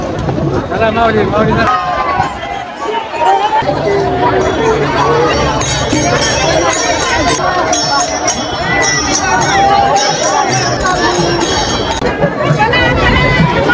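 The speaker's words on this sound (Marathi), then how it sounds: "एवढी भयंकर अशी गर्दी आहे उरुळी कांचन मध्ये" A huge crowd throngs the Tukaram Maharaj palkhi in Uruli Kanchan, a dense, loud babble of many voices with shouts, clinks and bustling movement, while someone nearby talks over it.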